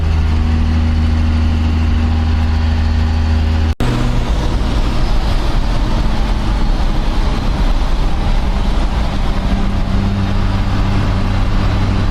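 A 12V Cummins diesel truck engine with an upgraded exhaust idles close by, a loud, steady low rumble that continues unbroken apart from a brief click partway through.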